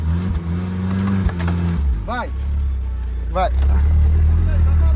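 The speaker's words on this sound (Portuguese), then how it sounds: "Acelera, tem que acelerar mesmo." A VW Saveiro Cross engine drones and then revs harder as the pickup reverses uphill, a low steady roar climbing in pitch, while people shout and talk close by.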